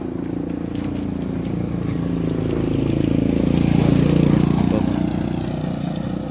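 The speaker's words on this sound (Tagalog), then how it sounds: "Dami ng motor dito." Motorcycles pass along a rural road lined with bamboo and rice paddies in Binangonan, Rizal, their engines making a steady, continuous hum that swells slightly midway through and then eases off, with no voices over it.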